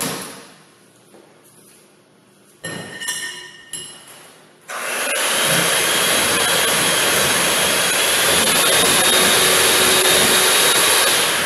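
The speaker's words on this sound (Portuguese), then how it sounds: "E agora nós vamos bater com a batedeira, sem parar." An electric mixer beats cake batter. A few short whirring bursts come first, then the mixer runs loud and steady without stopping to the end.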